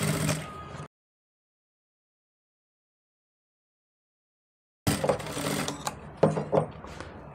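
Sewing machine stitching pintuck piping into fabric for a sleeve design, a short mechanical run at the start, then silence, then a longer, louder burst of busy stitching.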